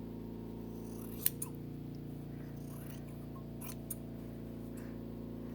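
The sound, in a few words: trimming embroidery thread with scissors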